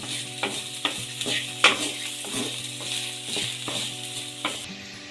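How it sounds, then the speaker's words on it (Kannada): Okra is fried in a pan and stirred, giving a gentle, quieter sizzle with regular sharp scraping strokes of a spatula about every half second, close and without speech, over a faint steady hum. "ನಾನಿಲ್ಲಿ ಮೊದಲು ಪೌಡ್ರ್ ಮಾಡಿಟ್ಕೊಂಡು ಬೆಂಡೆಕಾಯಿ ಹುರಿತಾ ಇದ್ದೀನಿ"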